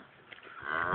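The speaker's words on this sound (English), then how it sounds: "Can't that cow shut up sometimes?" A distressed cow separated from her calf lets out a single rising moo that swells louder toward the end, close by and alone.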